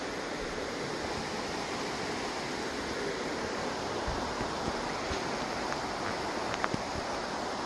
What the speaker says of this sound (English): A waterfall coming down that rock.